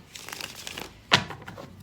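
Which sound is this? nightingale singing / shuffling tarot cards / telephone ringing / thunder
shuffling tarot cards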